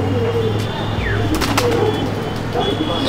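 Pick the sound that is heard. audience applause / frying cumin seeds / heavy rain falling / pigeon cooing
pigeon cooing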